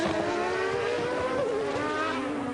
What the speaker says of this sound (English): for Gerhard, it makes a change to be running at the front in a Ferrari in a Grand Prix